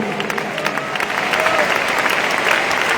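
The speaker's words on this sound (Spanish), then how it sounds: "Dele ese aplauso a él, dele ese aplauso a él" A crowd claps steadily at an evening worship service of a church district convention, the applause swelling slightly louder partway through and holding dense and continuous to the end.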